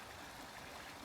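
Water pours steadily over a small cement spillway at a farm pond, a continuous soft rushing trickle at moderate distance with no voices.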